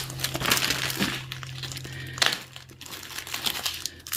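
A plastic packet of Czech glass beads crinkles and rustles as it is handled, with irregular close crackles and faint clinks at low volume, no speech over it.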